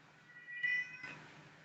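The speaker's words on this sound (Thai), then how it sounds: "แมวร้องเฉย" Cat meowing once indoors, a single drawn-out faint meow over quiet room noise.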